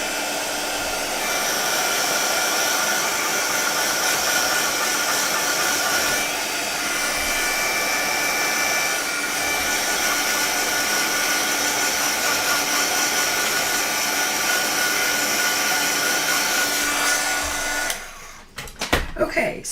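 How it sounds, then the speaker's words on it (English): A heat gun blows steadily over freshly stamped ink on a craft project, giving a loud, even whooshing whir that runs for most of the stretch before cutting off near the end with a few clunks. "I'm going to hit it with a glue gun or a heat gun"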